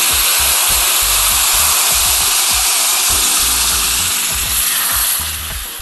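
Roasted semolina and pistachios hit hot syrup for Turkish semolina halva, giving a loud, steady, hissing sizzle that fills the whole stretch and eases off slightly toward the end, with soft low stirring knocks underneath.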